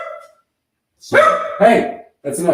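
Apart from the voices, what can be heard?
dog barking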